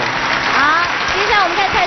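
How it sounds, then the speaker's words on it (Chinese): Applause for a guest at a lively market-themed variety show: a dense, steady patter of clapping runs throughout, with voices and cheering mixed in over it. "我们在这边先掌声谢谢他"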